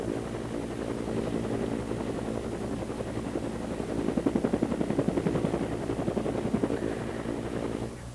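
A helicopter flies over a hurricane-damaged coast, its rotor thudding steadily and close throughout, with the rapid blade chop growing more pronounced midway before easing slightly.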